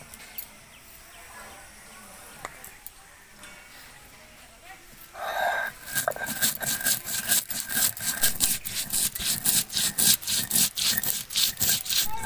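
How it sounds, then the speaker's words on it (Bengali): Cumin and coriander being ground into a paste on a grinding stone in a village kitchen, rhythmic close scraping strokes that start after a few quiet seconds and continue steadily. "জিরে আর ধনে বেটে নেব।"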